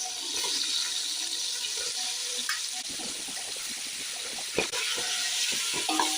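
Tomatoes frying in oil with onions and green chillies for chicken biryani, a steady broad sizzle with scattered stirring clatters and a couple of sharper knocks, close and continuous with no talk.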